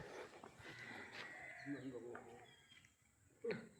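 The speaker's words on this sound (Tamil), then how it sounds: "மாடு வந்துட்டு" A cow lows on a Nainativu island street in Jaffna, with animal calls around the middle and near the end under nearby talk in Tamil.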